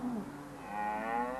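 A dairy cow in a herd gives a single drawn-out moo, low at first and then swelling into a louder, rising call that carries to the end, with no other voices.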